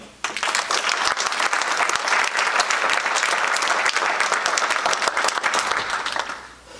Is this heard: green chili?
no